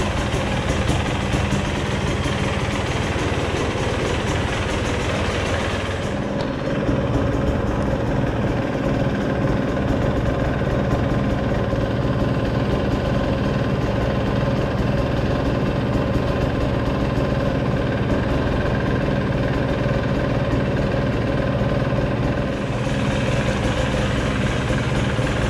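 A 2019 Husqvarna TE 300i two-stroke enduro motorcycle idles steadily up close, a constant buzzing engine drone with a slight shift in tone partway through and no talking.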